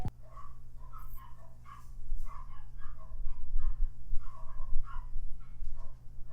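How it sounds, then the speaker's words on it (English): Neighbors' dogs bark in a string of about a dozen short, sharp barks at irregular intervals, somewhat distant over a low rumbling background. "Stupid neighbors' dogs, always barking."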